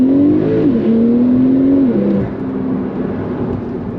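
A Porsche launches hard on launch control, its loud engine note climbing steadily, dropping at a gear change, then carrying on more quietly as the car pulls away.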